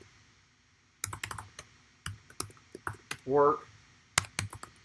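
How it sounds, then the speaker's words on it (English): Bursts of brisk computer keyboard typing, clicks in quick clusters with pauses, and someone briefly speaking between them. "Is this typing too loud?"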